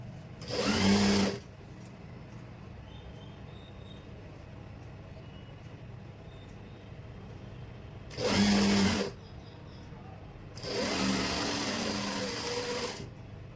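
Sewing machine running in three short bursts along the curved seat seam of trousers while the fabric is pulled slightly, each close whir separated by quiet pauses.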